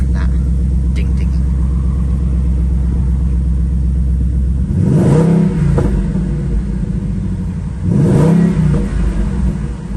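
Ford Mustang 5.0 V8 GT idling with a deep rumble, then two loud, sharp revs a few seconds apart, close by, with a chime ringing early on.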